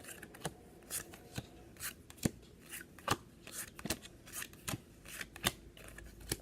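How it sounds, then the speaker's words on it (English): Playing cards are dealt one by one into three piles, each landing as a soft, quiet snap or flick in an uneven, steady rhythm, close up and without talk. "the cards and start dealing them into 3 piles"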